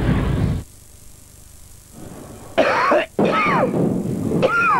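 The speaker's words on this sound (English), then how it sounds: "Irritating cough." Harsh, throaty coughing up close, several rough hacking bursts in quick succession after a brief loud noise.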